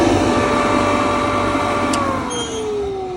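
Snail-type centrifugal fan on the furnace of a pumpkin drying setup, a loud, steady mechanical hum and whir with a sustained tone that slowly drops in pitch near the end, and no talking.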